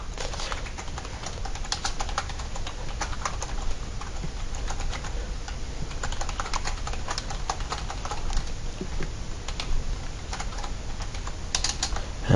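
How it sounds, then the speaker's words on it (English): Steady clicking of computer keyboard keys typing a URL, a continuous run of close, fairly quiet keystrokes with no talking. "So we're going to have to type in the URL for it."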